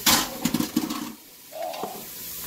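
Ingredients for chili sizzling in a pan, beginning with a burst of loud stirring and clattering that fades to a quieter, lingering sizzle within a couple of seconds.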